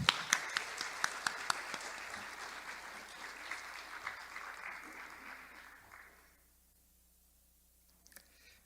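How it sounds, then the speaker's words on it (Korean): An audience at a talk on mind study applauds to welcome a speaker, dense clapping from a crowd that is loud at first, then gradually thins and fades out to near silence, with a few faint scattered claps at the end. "큰 박수로 모시겠습니다."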